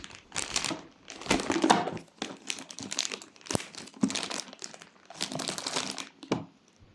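Delivered cargo package being opened by hand, a string of close crinkling and crumpling bursts of plastic wrapping with short rustling gaps between them, no talk.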